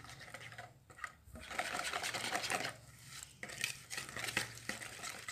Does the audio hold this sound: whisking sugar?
yes